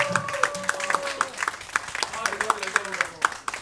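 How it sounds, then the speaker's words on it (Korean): A seminar audience on Australian stock investing claps to welcome a guest speaker, a scattered run of sharp, distinct claps at an irregular pace beneath ongoing talk and music. "자, 큰 박수 부탁드리겠습니다."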